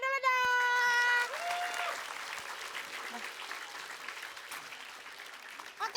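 A burst of clapping from a group starts after a brief tone and continues steadily at moderate level, with people talking over it.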